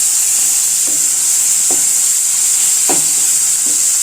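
Masala sautés in hot oil with a loud, continuous close-up sizzle, broken by a few light scraping strokes of stirring.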